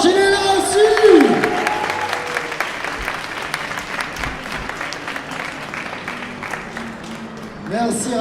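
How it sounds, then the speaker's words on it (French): A convention audience at a Montpellier panel with actors claps steadily, a dense sustained round of applause that swells and gradually thins, with an amplified voice speaking over the start. "Un autre tonnerre d'applaudissements, s'il vous plaît, pour Raphaël Sbarge."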